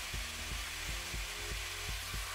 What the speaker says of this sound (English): we get a small bit of vacuum pulling air over the turbine blades and generating some rotation